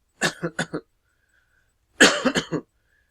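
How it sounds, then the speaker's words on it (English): Two bursts of coughing, a quick run of several coughs followed by a harsher cluster after a short pause. "You know why I'm coughing."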